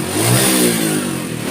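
A motorcycle engine fitted with a Shogun CDI is revved up close, a loud sustained rising buzz that holds and then eases back slightly.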